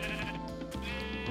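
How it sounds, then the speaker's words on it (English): A single sustained, wavering sheep bleat from the Minecraft video game sounds loud and close and fills the short moment without any talking. "The sheep."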